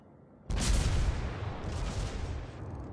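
Naval gunfire from a warship in World of Warships: a loud, booming salvo bursts in suddenly after a quiet start, then rolls on as a sustained heavy rumble that slowly fades.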